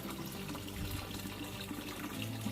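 Water runs steadily into a sink being filled to soak seedling cups, a continuous close splashing flow with no pauses.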